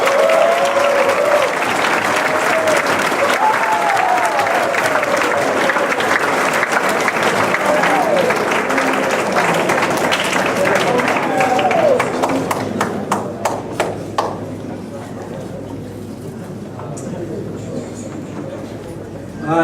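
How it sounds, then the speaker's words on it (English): Sustained loud applause from a crowd with some cheering at a high school cross-country team's end-of-season banquet, gradually thinning into scattered claps before fading out. "Let's give a big round of applause"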